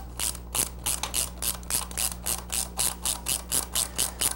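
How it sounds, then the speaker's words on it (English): A long Allen wrench on an extension tightens starter bolts, giving a steady run of about a dozen rhythmic ratcheting clicks, close and distinct over a constant low hum. "Now I've got a long Allen that I use and an extension, so I'm out past all the chrome when I tighten this up."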